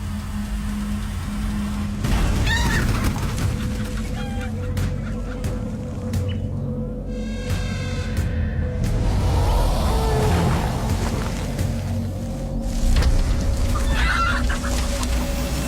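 A chicken clucks in short bursts over a steady background hum, several separate clucks scattered through the clip, fairly close and clear.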